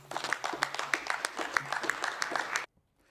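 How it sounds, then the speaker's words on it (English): Applause fills the Scottish Parliament debating chamber for Labour member Rhoda Grant, with dense clapping from many hands that stays steady, then cuts off abruptly near the end. "Those applause for Rhoda Grant"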